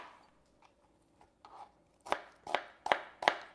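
An onion is chopped on a board: a few soft quiet cuts at first, then four loud, evenly spaced knife chops close by, with no voices.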